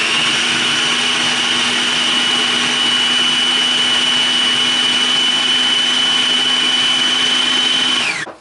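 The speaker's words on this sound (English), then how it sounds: "Now that's all in the food processor. I am going to turn that on and give these a bit of a chop." A food processor whirs steadily, chopping Jamaican jerk seasoning ingredients with a loud, even motor drone and a high whine, running about eight seconds before switching off abruptly.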